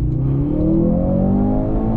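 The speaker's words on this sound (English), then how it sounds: "Okay, we do get loud pops and so on, but it sounds like a CLA 45." A Mercedes C63 AMG engine revs hard and close, its tone climbing steadily in one loud, continuous pull lasting a couple of seconds.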